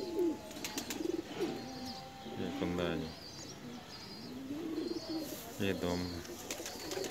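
Pakistani Teddy pigeons coo in soft, repeated throaty phrases close by, while someone talks over and between the calls.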